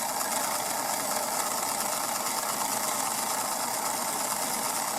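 The small motor of a Mantua model tank locomotive runs with a steady, even whir and faint buzzing hum, unchanging throughout and heard close up.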